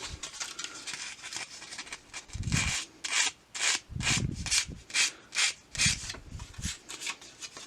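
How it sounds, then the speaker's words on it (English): Very fine sandpaper is pulled gently across a furnace flame sensor to clean it, producing about a dozen close, steady rasping strokes in an even rhythm with no talking. "we have a very fine piece of sandpaper. We're just gonna gently pull off here."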